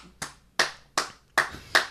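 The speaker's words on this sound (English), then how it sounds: "You applaud for yourself." Comedian Greg Stone claps for himself as a podcast guest: five sharp, close hand claps in an even rhythm, each one alone with short quiet gaps between.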